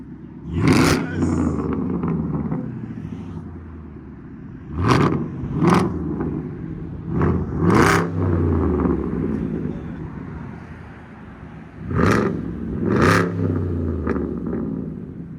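A 2016-2018 Chevy Camaro SS with the muffler deleted revs repeatedly, sharp loud blips rising and falling about five times over a steady idle rumble, heard from outside with some wind and background voices.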